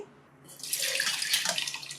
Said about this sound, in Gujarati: દાળમાંથી આપણે થોડું પાણી નિતારી લેવાનું છે